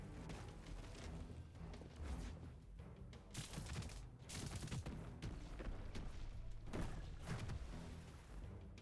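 A boss unleashes an area-of-effect attack in the video game Wizard of Legend, a dense, continuous wash of magical blasts and impacts with bursts of heavier crashes layered through it.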